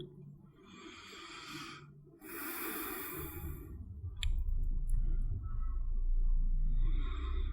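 Slow, deep breathing during a vinyasa yoga flow: a long airy inhale, then a longer breathy exhale, followed by quieter low rumbling breath, close to the microphone and without talk.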